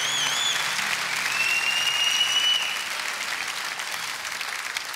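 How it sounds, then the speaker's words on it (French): A brief round of audience applause at a comedy show, dense, even clapping from a crowd at moderate loudness that eases off after a few seconds, with a faint whistle cutting through near the start. "c'était un petit peu court comme applaudissement."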